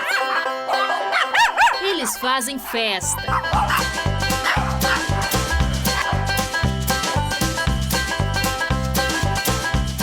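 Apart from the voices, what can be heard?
dogs barking at a dog hotel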